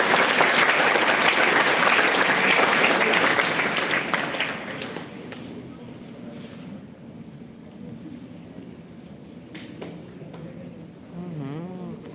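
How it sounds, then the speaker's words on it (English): Audience applause at a Lloyd Institutions International Women's Day celebration, loud and sustained for about four seconds before fading away into quiet room noise and faint voices. "we have a round of applause for the family?"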